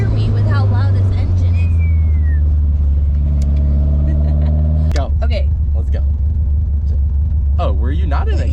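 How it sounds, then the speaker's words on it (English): A 1971 Toyota Celica engine revs loudly while driving with a manual gearbox, a deep, steady droning rumble rising and falling in pitch, with people talking over it. "I don't think the camera could even hear me with how loud this engine is"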